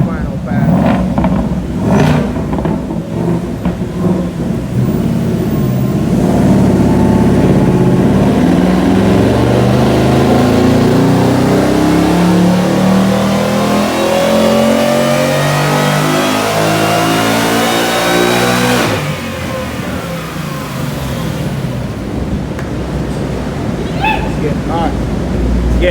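A Whipple-supercharged 2018 Mustang 5.0 roars loudly on a dyno pass, revving and climbing in pitch for several seconds before the throttle snaps shut and the engine drops back to a rumbling idle.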